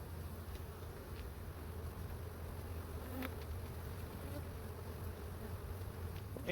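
A dense, steady drone of many honeybees buzzing in a double-stacked hive colony during an inspection, heard close up and continuous without any talk.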